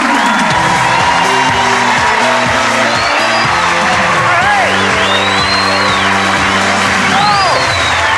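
Television game show studio audience cheering, whooping and applauding host Roy Walker on the 1991 Catchphrase, a loud continuous roar with music playing beneath and a shout rising above.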